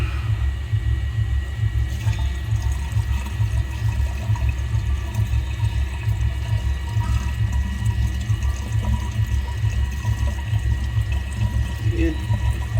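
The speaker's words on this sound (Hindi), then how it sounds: "पानी बहुत आराम से निकालना है" Water is slowly poured off settled silver powder, a steady low gushing and trickling flow that runs continuously and evenly at close range with no talk over it.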